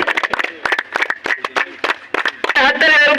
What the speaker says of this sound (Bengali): আমাদের হাততালি আবুলদের জন্য জোরে হাততালি